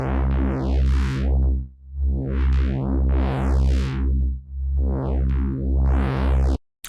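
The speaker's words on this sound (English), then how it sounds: "So I have a sample right here called C analog style Reese, and sounds like this." An analog-style Reese synth bass sample in C plays alone, thick sustained low notes with a slowly sweeping, phasing filter that rises and falls in long waves, cutting off abruptly at the end.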